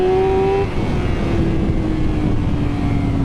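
A 1000cc sports motorcycle at full throttle on a race circuit in Thailand, its engine a loud, steady, close roar with a sustained high whine that shifts pitch slightly after a brief dip, with no one talking.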